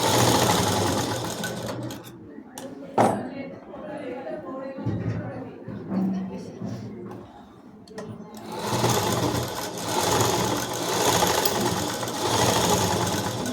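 Sewing machine stitching a long frock from the neckline, steady mechanical whir running loud through most of the stretch with brief pauses near the start, alongside a person talking.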